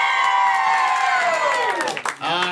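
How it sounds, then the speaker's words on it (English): A comedy show audience cheers and shouts loudly, a dense roar of whoops and voices that holds steady, dips briefly near the end, then swells back. "He said as the crowd went utterly insane."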